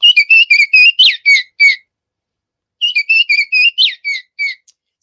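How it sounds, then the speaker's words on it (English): An orchard oriole calls in two bursts of rapid, high-pitched whistled notes separated by a short pause, clear and close with no other sound around it. "I usually hear Orioles first before I see them, hear their high-pitched whistle"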